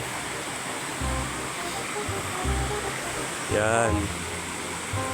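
A river flowing on a farm in the morning, a steady broad rush of water heard close up and continuous, with a voice speaking briefly over it and a short whining tonal sound near the end.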